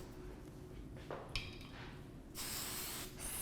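Hairspray hisses onto teased hair in a quiet indoor setting, first a brief puff, then a longer sustained spray lasting about a second.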